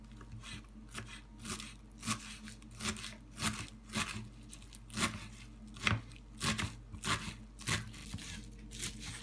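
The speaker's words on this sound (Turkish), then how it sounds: "Önce maydanozumuzu ince ince kıymakla işe başlayalım." A knife finely chops parsley on a board, making quick irregular bursts of sharp taps that come in short clusters, close and fairly loud.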